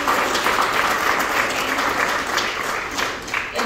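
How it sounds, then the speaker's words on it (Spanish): Audience applause at the Newark Latino Film Festival at the Newark Museum, a steady crowd clapping throughout that holds fairly loud and even before easing slightly toward the end. "un aplauso grande por favor para nuestro panelista"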